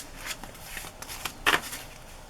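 A deck of playing cards handled up close, with soft riffling flicks and one louder snap of cards near the middle, brief and quiet.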